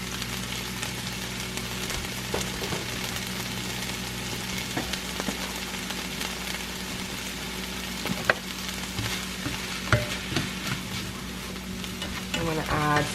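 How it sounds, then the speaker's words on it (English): Tofu sautéing in a pan gives a steady close sizzle and crackle with occasional utensil scrapes and clicks, running continuously without speech. "I'm going to add some tofu, saute it."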